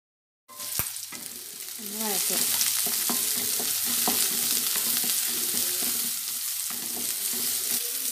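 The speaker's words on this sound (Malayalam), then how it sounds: "വെളിച്ചെണ്ണ ചൂടായതിന് ശേഷം അതിലേക്ക് 5 ചെറിയുള്ളി ചെറുതായിട്ട് അരിഞ്ഞത് ഇട്ട് കൊടുക്കാം." Chopped shallots frying in hot coconut oil, with curry leaves joining them in a pan for a fish curry; a sudden loud sizzle starts as they drop in and carries on steadily, close by, with stirring clatter and a brief spoken word.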